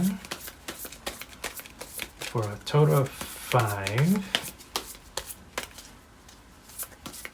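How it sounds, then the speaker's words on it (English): Oracle cards are shuffled in quick, dry riffling bursts of crisp flicks and taps, close by, with someone talking in the middle. "3 shuffles this way, and let's get 5 cards from you here."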